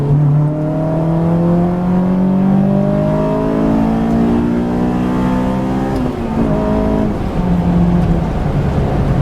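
A 2004 Honda S2000 (AP2) sports car engine revs hard and climbs steadily in pitch, loud and close, briefly dropping at a gear change before climbing again.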